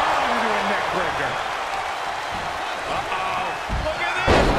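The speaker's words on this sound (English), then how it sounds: "Right there, right into a neck breaker." A neck breaker slam lands in the WWE 2K22 wrestling video game, with thudding impacts near the end over steady arena crowd noise and a commentator talking throughout.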